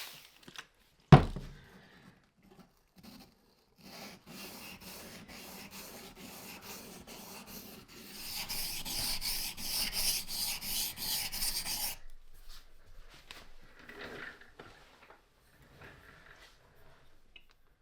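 A bushcraft knife is sharpened on a whetstone in quiet, rhythmic rubbing strokes that pick up into a faster, louder stretch of scraping passes before easing off; a sharp knock opens it.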